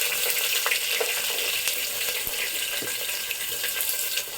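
Onions with curry leaves and dried red chillies hit hot oil for sambar, making a continuous bright sizzle with scattered crackles and light utensil taps, close and steady throughout.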